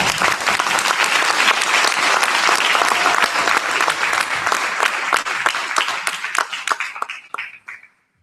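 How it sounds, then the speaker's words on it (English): Students at a high school parent forum receive a loud, sustained round of audience applause from a crowd. Dense clapping fills the room and then thins out and fades near the end. "Can we get a round of applause for our students?"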